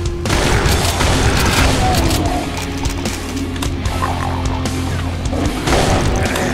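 Gunfire rattles in the video game Doom 2 played with the Brutal Doom mod, dense overlapping shots and booming blasts filling the whole stretch loudly with game noise.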